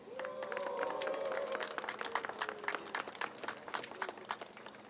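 An indoor crowd at a political rally gives encouraging applause, a faint, steady patter of many hands that thins into scattered claps, with a voice heard briefly at the start.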